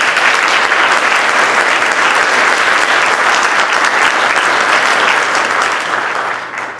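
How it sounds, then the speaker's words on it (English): A school audience gives a loud, sustained round of applause for newly inducted National Honor Society members, with the clapping holding steady and then tapering slightly at the end. "Please join me in giving them a well-deserved round of applause again."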